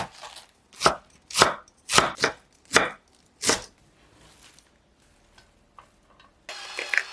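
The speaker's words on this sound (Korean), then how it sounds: "크기가 큰 겉잎은 반으로 자르고 겹쳐서 채 썰어 주시고요." A knife slices through stacked cabbage leaves, about seven crisp, evenly spaced chops on a board, then quiet with a little handling noise.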